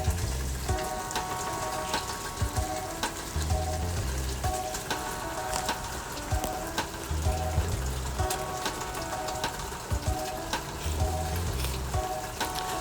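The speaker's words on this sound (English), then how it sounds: "even though it was raining, I thought it would be a cool sound" Steady rain falls outdoors during a leg-day workout, a dense, even hiss and patter close to the microphone. Dull low thumps come back every few seconds underneath.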